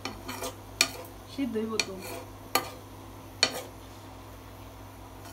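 A pot of khichuri being stirred after water is added, with scattered clinks and scrapes of a utensil against the pot and a soft bubbling, while a person speaks briefly.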